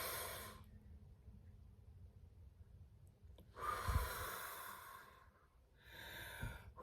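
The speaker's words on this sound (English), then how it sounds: "Breathe in, breathe out." Slow deep breaths in and out taken close to the microphone, two long airy exhalations separated by a quiet pause, with no speech.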